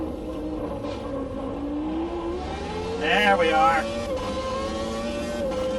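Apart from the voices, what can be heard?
race car engine revving through gears in Automobilista 2 video game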